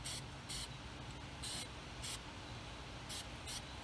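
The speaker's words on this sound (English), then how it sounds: "When you're spray painting, pay particular attention to the edges." Short bursts of aerosol spray paint hiss repeatedly at irregular intervals while coating fasteners and brackets, each lasting a fraction of a second, close by against a quiet background.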